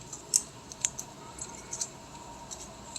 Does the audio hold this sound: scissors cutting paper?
yes